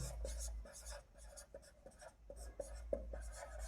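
Chalk or marker tapping and scraping across a board as a table is drawn for a physics lesson, with short repeated strokes in an irregular rhythm, close and fairly quiet, no talking.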